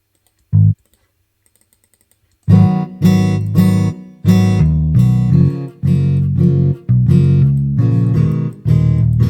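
A freshly rendered rhythm bass part for an acoustic-style beat plays loudly and alone, opening with a single short note, then after a pause a steady run of punchy, repeated plucked notes in a driving rhythm.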